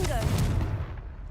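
A Confringo blasting spell goes off in the video game Hogwarts Legacy, a single sharp explosive burst that rings out and fades within about a second.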